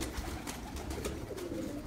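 Pigeons cooing on a rooftop loft, soft repeated murmuring coos over steady background noise, close and low in level.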